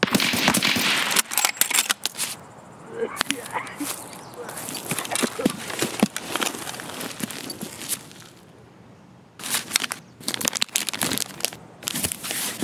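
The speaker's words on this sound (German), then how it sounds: "Schön durch den Busch schießen" Bursts of gunfire in Escape From Tarkov, fired through a bush, come as sharp loud volleys at the start and again near the end, with quieter shuffling and scattered shots between and someone talking over parts.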